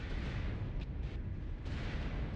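Dense rumbling barrage of missile impacts striking a heavy Atlas mech in a city battle in a video game, a continuous booming roar with a few sharper bursts layered through it, loud and close.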